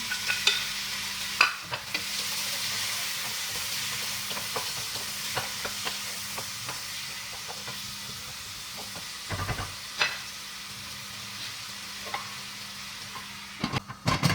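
Tomato stirred into a hot frying pan, a soft continuous sizzle with a low steady hum behind it, broken by intermittent scraping and clinking of the utensil, louder clatter toward the end.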